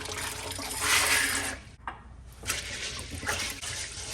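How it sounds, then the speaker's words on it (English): Peas being washed for Jamaican rice and peas, water running and sloshing close by with a brief pause before splashing resumes, no speech. "So now I'm going to wash the peas."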